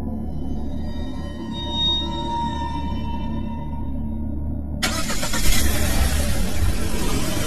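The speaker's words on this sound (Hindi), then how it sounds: "सैम ने अपनी कार चलाई और जंगल के उस अंधेरे रास्ते से दूर निकल गया" A car engine runs on a dark forest road as the car pulls away, a steady mid-pitched hum that swells louder and rougher partway through as it accelerates, with no voices.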